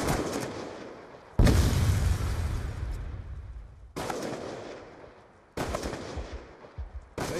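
Loud gunfire in Call of Duty Black Ops 2, three heavy blasts, each with a long decaying rumble and reverberant tail, close and dominant with no talk.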